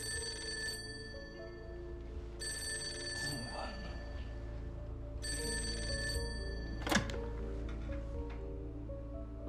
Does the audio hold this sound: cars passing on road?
no